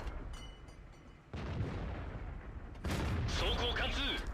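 A tank cannon fires in a video game: loud, close booms strike at two moments over a steady mechanical rumble, with a voice audible in the background.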